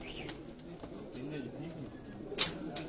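Pigeons cooing softly in a low, rolling rhythm through a quiet space, with a sharp brief noise near the end and faint voices in the background.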